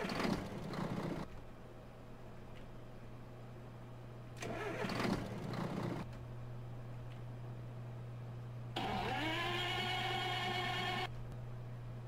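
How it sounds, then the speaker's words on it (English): Truck engines in Farming Simulator 2013 crank and catch one after another, three separate starts over a steady low idle hum, the last settling into a louder, rising whine before dropping back. "let's start the engines of these trucks"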